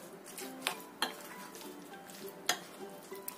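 A spoon stirs a snack batter of flour and cold water in a bowl, giving a steady soft scraping with a few sharp clinks against the side, close and moderately quiet with no talking.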